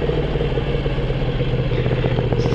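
A motorcycle engine runs loud and close with a rough, throbbing, clattery tone as the throttle is opened while riding, the note building slightly toward the end, no voices over it.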